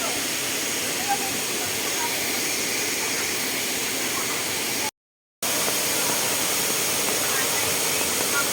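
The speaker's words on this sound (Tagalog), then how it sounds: "Kaya lang, inabot na kami ng malakas na ulan." Heavy rain pours down at a waterfall in Laguna, Philippines, in a dense, steady roar of hiss, broken by one brief moment of silence before resuming just as loud.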